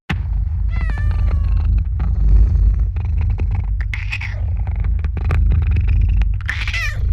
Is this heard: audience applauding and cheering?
no